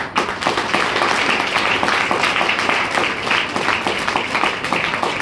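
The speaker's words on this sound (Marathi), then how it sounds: "एकदा स्वतःसाठी जोरदार टाळ्या उंजव द्या" Loud, dense applause fills a room at a Women's Day program as a crowd claps hard for themselves. The clapping is steady and sustained with no pause.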